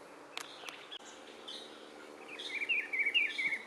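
Birds, mainly thrushes, sing faintly in an urban green area with planted trees, scattered chirps at first, then a brighter run of repeated warbling notes building toward the end over a low steady background hum.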